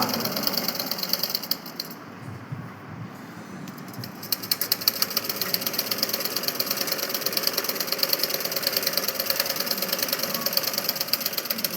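A sewing machine runs steadily while stitching the leg of a salwar, its rapid mechanical chatter continuous and fairly close, pausing briefly before resuming at a steady pace with no talking.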